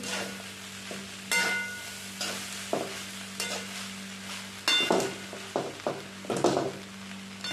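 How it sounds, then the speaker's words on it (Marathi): Leftover rice made into Schezwan fried rice with vegetables, stirred in a pan: a low sizzle runs throughout beneath repeated scraping and clattering strokes of the spoon, coming faster toward the end. "राईस आता सगळा एकत्र करून घेते मी व्यवस्थितरित्या"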